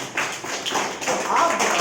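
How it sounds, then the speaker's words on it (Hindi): A small gathering claps briefly at a local meeting, a short burst of close, irregular hand claps over a couple of seconds, with voices talking alongside. "ताली हो जाए। जोरदार तालियां।"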